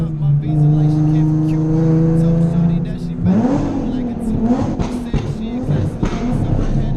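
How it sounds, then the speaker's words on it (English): A Nissan 370Z with a straight-pipe exhaust drones at steady revs, then accelerates hard through a tunnel, its loud rasping roar echoing with quick gear-change surges, voices briefly audible inside the car. "the straight pipe actually sounds sick, and doing like little tunnel runs, it sounds great"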